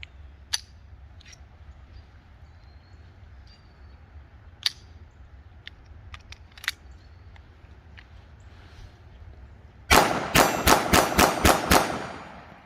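Small, high-velocity rimfire rounds striking a steel target outdoors: a rapid string of about seven sharp metallic impacts at the end, preceded by a few isolated distant cracks over quiet background noise.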